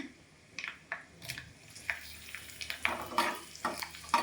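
Dried red chillies crackle and sizzle in hot oil for a tempering, with scattered sharp pops over a steady low fizz, close by and with no voices.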